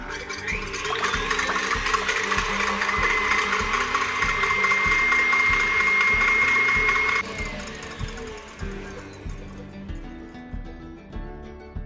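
An electric hand mixer on high whips egg whites for a diabetic-friendly cheesecake, a steady buzzing whine with a rattling beater clatter that cuts off partway through, leaving quieter bowl knocks.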